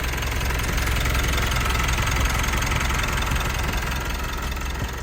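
Mitsubishi Montero Sport engine idling, a steady close rumble with a fast, even mechanical ticking, constant and alone throughout.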